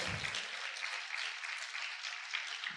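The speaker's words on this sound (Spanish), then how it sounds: "¿Cuántos pueden aplaudir fuerte al Señor?" A church congregation applauds loudly in a steady, dense wash of clapping that runs the whole time, with a brief low rumble at the start and end.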